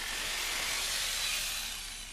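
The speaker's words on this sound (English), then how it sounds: "Then with the jigsaw, cut down the length of the board." A jigsaw cuts lengthwise down a flooring board, a continuous bright buzzing rasp held steady for about two seconds, close and alone before it starts to fade.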